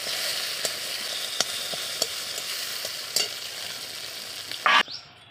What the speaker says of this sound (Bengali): আমি ওই তেলে ভেজে নিচ্ছি।